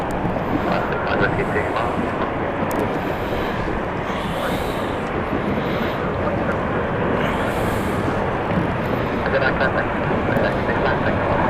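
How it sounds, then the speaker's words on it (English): A passenger airplane on the Dublin flight arrives at London City Airport, its broad engine roar steady and loud throughout under gusting wind noise on the microphone. "Here comes the Dublin flight."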